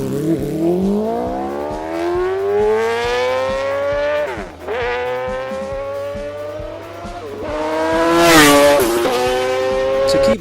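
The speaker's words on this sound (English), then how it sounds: "will also get the handmade MotoGP style system supplied with the bike too, which has its own distinct sound" Motorbike fitted with a handmade titanium MotoGP-style exhaust, loud and close, revving up and down through several rising engine sweeps with a sharp dip midway and a harsh peak near the end, no talk.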